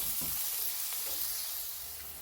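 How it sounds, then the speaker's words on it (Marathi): Chopped onion sautéing in a pan on a gas stove for dal tadka, a steady soft sizzle throughout with faint stirring scrapes, close and moderately quiet. "आता कांदा आपल्याला रंग बदलेपर्यंत परतून घ्यायचा आहे."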